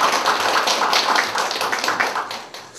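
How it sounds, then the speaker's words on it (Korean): An audience in a lecture hall applauds to welcome a lecturer, giving a dense, even patter of many hands clapping that fades slightly toward the end. "큰 박수로 환영해 주십시오"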